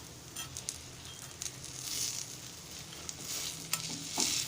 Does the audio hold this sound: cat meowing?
no